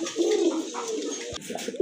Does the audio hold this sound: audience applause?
no